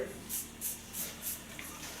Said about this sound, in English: The first thing I put on her is a care spray.